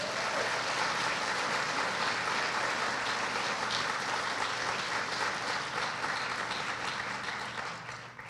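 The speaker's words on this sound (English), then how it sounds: "Let's have a round of applause for our new colleagues" A large crowd applauding steadily at a college convocation ceremony, loud and sustained, tapering off slightly at the end.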